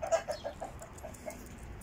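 A rooster on a beach gives a series of short, faint clucks in an uneven rhythm, some distance away over quiet outdoor background.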